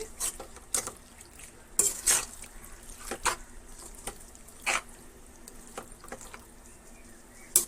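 Washed chicken pieces being stirred into fried masala in a pot for chicken curry, with scattered scrapes and clinks of a spoon against the pot over a faint background, no voices.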